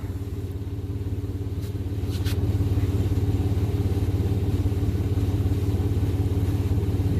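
A 1995 Chevy Blazer 4.3L engine idles steadily with a low, even rumble and faint mechanical clatter, close by and continuous, no voices.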